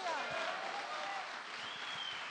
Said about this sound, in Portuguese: Glorifica a Deus com as palmas.